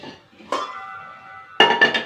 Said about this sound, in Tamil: குக்கரை வந்து இந்த அடுப்புக்கு மாற்றிக்கிறேன் நான்.